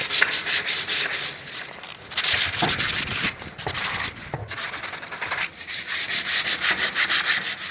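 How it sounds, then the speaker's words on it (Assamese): Scraping and sanding of putty on the back of a wooden door, a loud continuous rasping rub in long back-and-forth strokes with brief pauses between passes. "আমি আপোনাৰ দৰ্জাখনৰ পিছফালটো পুটি কাটি লওঁ"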